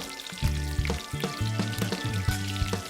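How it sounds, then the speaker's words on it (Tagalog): Onion and garlic sizzle in hot oil in a pan, a steady close frying hiss with scattered stirring knocks and a low hum underneath, and no talking. "Sunod na igigisa ang sibuyas at bawang."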